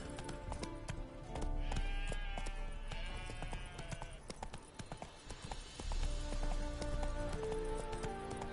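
A horse gallops in The Witcher 3 video game, with quick rhythmic hoofbeats and occasional whinnies over game sounds, close and fairly faint.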